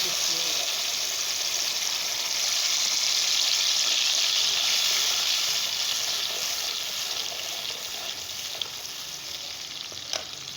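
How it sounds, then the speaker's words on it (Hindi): Ground masala hitting hot oil with ghee in a pan, a steady loud sizzle and hiss of frying that holds for about ten seconds, easing slightly toward the end, with a couple of faint clicks. "ऑयल गरम हो गया, अब हम इसमें ये ग्राइंड किया हुआ मसाला शामिल कर देंगे।"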